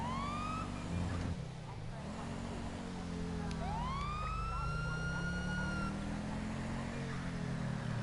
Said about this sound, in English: I'm having to get through these lights using my siren